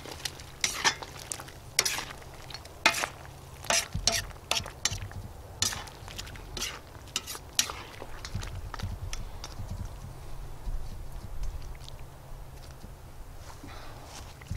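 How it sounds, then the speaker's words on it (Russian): Braised chicken legs with vegetables, onion and dill being stirred in a pan: a spoon scrapes and knocks against the pan in irregular bursts over a low sizzle, with the knocks thinning out toward the end. "Перемешиваем."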